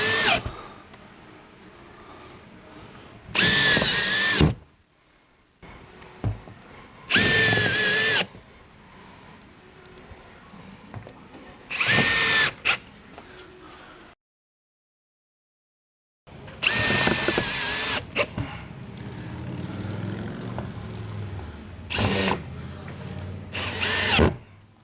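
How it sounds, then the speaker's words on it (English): A power drill drives screws in several short bursts, each a few seconds long, while a sliding door motor is replaced, separated by quieter pauses with faint handling noise; close and loud. "With my drill bit extension, I'm going to secure the top anchor tab."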